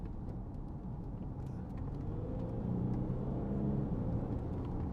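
A 2016 Range Rover Sport 3.0 SD V6 HSE 4x4 changes down a gear: a steady, low engine rumble inside the cabin swells slightly partway through and holds at a firmer drone.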